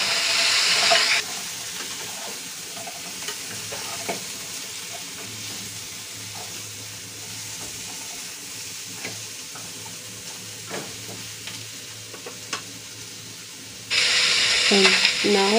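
Garlic and ginger stir-fry in a wok alongside braised pork trotter, a continuous crackling sizzle with scattered scrapes of stirring, louder bursts at the start and end.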